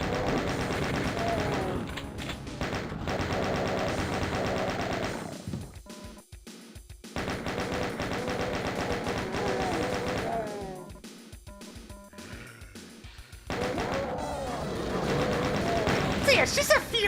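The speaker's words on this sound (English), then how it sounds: "Heard another chain gunner." Rapid bursts of chaingunner fire from the Doom video game rattle in loud, sustained strings with brief gaps, set against game music and effects while a voice talks intermittently.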